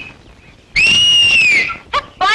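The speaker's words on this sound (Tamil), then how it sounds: "அனிதா, இங்க வாயே, பெட்ரோல் பங்க் விசில் அடிக்குது" A loud, sustained whistle, apparently a wolf whistle, is aimed at someone near a petrol pump and holds for nearly a second, followed by two shorter whistle bursts.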